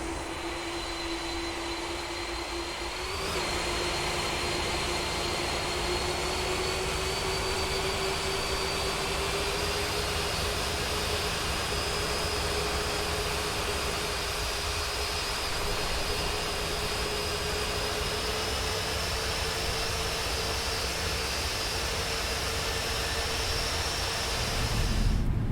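Flight Factor 767-400 airliner in X-Plane 11 with FTSIM sound pack: a steady jet engine whine and roar that swells after a few seconds and holds loud and continuous, a rising high tone sitting over broad rumbling noise, with no talking.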